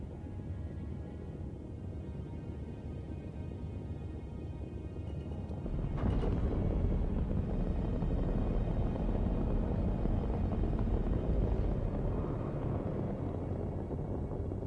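Spaceship engine in Star Citizen just after takeoff: a steady, broad roaring rumble that swells louder partway through and holds, with no voices over it.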